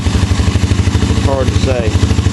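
A Suzuki Ozark ATV engine runs on starter fluid fumes with a loud, steady, pulsing chug close by, while a voice speaks briefly over the rough idle.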